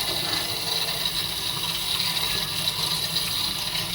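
Water sprays from a kitchen faucet set to shower mode, a steady close broadband hiss of spray that stays even throughout, without speech.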